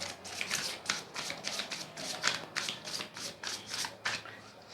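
Tarot cards are shuffled by hand in a quick, fairly close run of about a dozen crisp riffling bursts, each a short papery flutter, with no talking.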